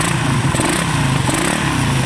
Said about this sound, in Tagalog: Pangit ang tunog ng makina.